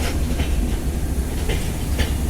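The Panchagarh Express at Parbatipur railway junction rolls past close by, with a heavy low rumble and rhythmic clickety-clack of wheels over rail joints.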